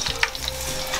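Oil sizzles and crackles steadily as sweet potatoes fry close up, with small pops scattered through the hiss.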